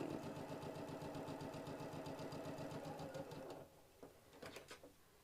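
A sewing machine runs in a fast, rapid stitching rhythm for a few seconds, then stops, followed by a few soft clicks and handling sounds.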